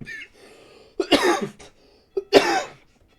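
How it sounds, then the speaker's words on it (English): A live esports match commentator coughs twice into a microphone, two sharp, close bursts about a second apart, each followed by a short rasp, with faint background tones between them. "I don't have a dump button for the cough."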